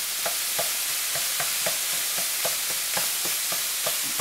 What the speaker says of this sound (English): Now this doesn't take long to fry up at all.